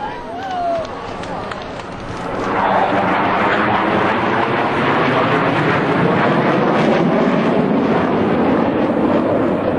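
US Navy Blue Angels jets fly in formation at the 2003 New York International Airshow. A broad jet roar swells after a quieter start and then holds loud and steady while an announcer talks over it.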